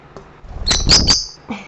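Lovebirds, small feisty parrots kept as a flock indoors, giving a quick burst of sharp, close chirps lasting under a second with a faint call after.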